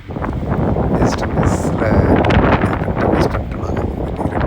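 Strong wind gusts in open country during a deer hunt in New Zealand, a steady broadband roar buffeting the microphone throughout, with louder surges and faint rustling underneath.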